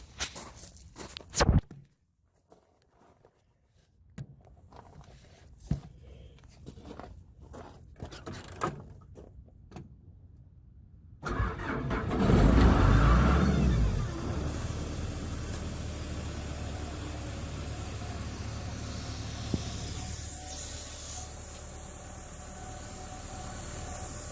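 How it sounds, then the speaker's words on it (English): An air compressor engine for blowing out a sprinkler system fires up after some footsteps and handling noise, then settles into a loud, steady idle with a broad hiss that continues to the end. "Let's fire up this compressor."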